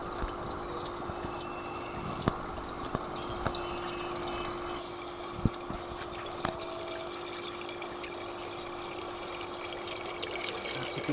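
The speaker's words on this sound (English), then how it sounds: "Okay, so the water started filling in here." Water pours and trickles into a swirl filter tank in a steady, moderately quiet flow, with a few small knocks and clicks scattered through it.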